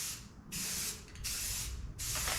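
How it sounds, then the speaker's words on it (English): Spray can hissing paint onto a panel of a 1995 Chevrolet Silverado pickup, in three steady bursts of close, loud hiss separated by short pauses. "that's what you're gonna do with these spray cans as well"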